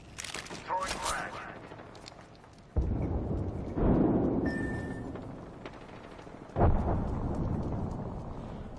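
A frag grenade goes off in Apex Legends amid a firefight, with several heavy booming blasts and rumbling gunfire. A voice is heard now and then among the loud, punchy bursts.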